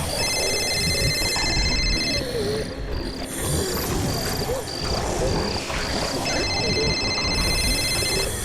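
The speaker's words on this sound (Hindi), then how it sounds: "जीत के फोन की आवाज" A phone rings in a tense, haunted night scene, its repeated electronic trill pulsing in bursts over a dense bed of chirping insects and low rumbling ambience.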